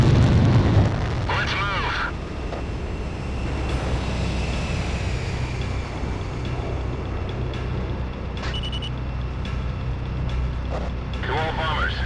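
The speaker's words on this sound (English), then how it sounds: "That must mean the bombing started." Bombing over a burning city in the Ace Combat Zero video game: a loud rumbling blast opens, then a steady deep roar of aircraft and distant explosions, with radio voices speaking intermittently over it.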